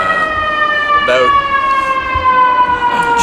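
Emergency vehicle siren wailing loud and close in a long, steady tone that slowly drops in pitch as it passes, with short bursts of speech over it.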